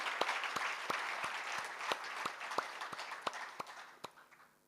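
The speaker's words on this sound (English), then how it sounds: "let's give them a big round of applause, please." An audience at a spiritual assembly marking a guru's fifty-year global pilgrimage claps in a steady, crowded round of applause, with sharp individual claps standing out, before it thins and fades toward the end.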